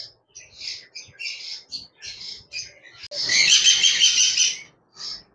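A chattering lory gives a series of shrill, squawky chirps in short bursts, then one longer, harsh chattering call, loud and close, at the Mirpur bird market in Dhaka.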